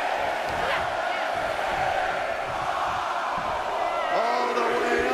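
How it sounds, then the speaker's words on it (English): Arena crowd roaring in a WWE 2K23 ten-woman Royal Rumble match, a sustained loud wall of cheering and shouting that holds steady throughout, with a commentator's voice faintly over it near the end. "Listen to this crowd"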